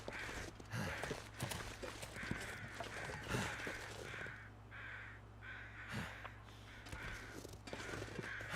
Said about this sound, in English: I hear more crows over.